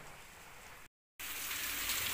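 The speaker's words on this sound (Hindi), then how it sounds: "तो बारिश बहुत तेज़ चल रही है बाहर" Heavy rain pours outside barracks in the hills at Murree, making a dense, steady hiss that cuts out briefly and then returns a little louder.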